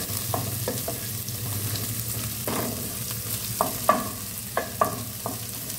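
Onion and green chilli pieces fry in a pan with a steady, close sizzle, broken by several sharp scraping stirs of a spoon against the pan.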